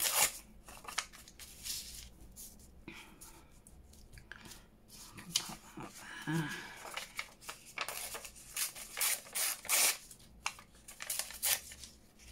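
Paper torn by hand for a junk journal side pocket, a run of close, crisp ripping and crinkling bursts at an uneven pace, with quieter handling between tears and no talking.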